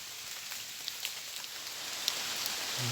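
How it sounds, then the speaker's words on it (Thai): Light rain patters steadily, with scattered individual drops tapping now and then against a soft, constant hiss. "ตกไหมล่ะฝนแล้วฝนนี่นะ"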